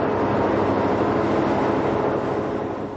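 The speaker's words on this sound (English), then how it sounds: "The Zephyr is soon out of Moffett Tunnel at Winter Park and continuing westward." California Zephyr diesel passenger train heading westward out of Moffett Tunnel at Winter Park, a steady loud rumbling roar sustained throughout without pause.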